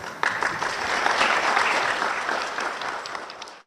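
An audience claps in steady, fairly loud applause after a political speech, the clapping swelling and holding for a few seconds before cutting off abruptly.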